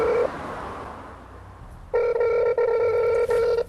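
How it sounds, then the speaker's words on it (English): A foreign, non-UK telephone line gives steady repeated tones after a brief opening beep and a quiet pause, the pulses coming in a loud, regular cadence close to the receiver. "That's not a UK dial tone for a start."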